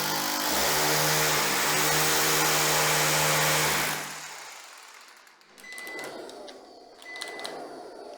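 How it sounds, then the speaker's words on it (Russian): A vacuum cleaner, used during an apartment renovation, roars loud and steady up close, then abruptly dies after about four seconds as it malfunctions, leaving only faint clicks and rustles. "Пылесос начал барахлить в самый неподходящий момент."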